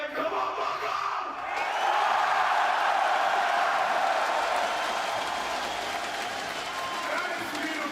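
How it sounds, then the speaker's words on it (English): A large esports arena crowd at IEM Melbourne roars and cheers for the MongolZ during a Counter-Strike 2 semifinal, a loud sustained wall of shouting voices that swells and holds for several seconds. "Do you want to hype up this crowd for the Mongols?"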